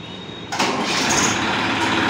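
A Massey Ferguson 241 tractor engine roars up loud and close after a brief quieter rumble, then holds a steady, dense drone with no talking.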